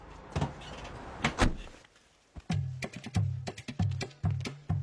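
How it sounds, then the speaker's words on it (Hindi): A door is shut from outside in a tense film scene, with a couple of clunks and scrapes, followed by a series of sharp, rhythmic knocks or thuds that repeat at close range. "तुम बाहर से दरवाजा बंद कर दो।"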